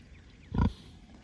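A pet pig nibbles and snuffles at a rubber boot, producing a single short burst of close, grunting mouth noise about half a second long against a quiet farm sanctuary background.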